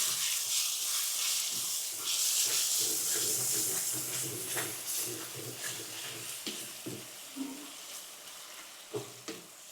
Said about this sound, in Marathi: घरगुती लाल मसाला आणि त्यानंतर बिर्याणी मसाला हे मसाले आपल्याला गॅस कमीच करून असे जरा परतवून घ्यायचे आहेत